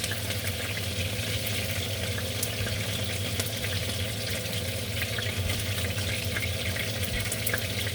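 Beef for stroganoff sizzles and crackles steadily in a hot pan, a dense, even frying hiss held close throughout without pause.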